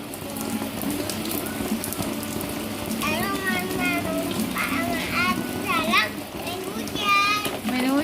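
Steady rain pours down while a young child plays in it, with a hiss of falling water under excited child squeals and adult talk throughout.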